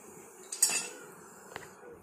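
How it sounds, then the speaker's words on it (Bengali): A knife cuts potatoes, giving two sharp, separate clinks against a surface about a second apart, close and fairly quiet. "আলু কাটছি।"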